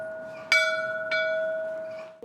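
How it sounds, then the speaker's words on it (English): Original school bell at a primary school in Galashiels, rung for morning, break start and break end: two clear metallic strikes with a long ringing decay, then a softer third, moderately distant. "including the original school bell, which is still used to be rung at the morning,"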